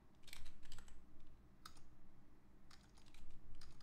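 Quick bursts of typing on a computer keyboard, close clicking keystrokes in short runs separated by brief pauses, with no voices.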